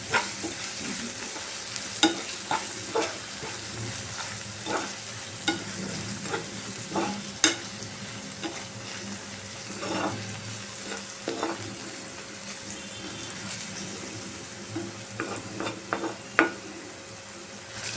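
Eggplant with Italian seasoning is stirred in a frying pan under a soft steady sizzle, with repeated sharp scrapes and clinks of the spatula at an irregular rhythm, close and without talk.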